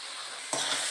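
Food frying in ghee in a pan, a close hissing sizzle that suddenly grows louder and brighter partway through as it is stirred.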